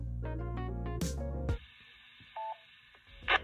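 A handheld amateur radio sends a short steady access tone to a repeater at the press of a button, a single beep of about a quarter second amid bursts of radio noise and hiss.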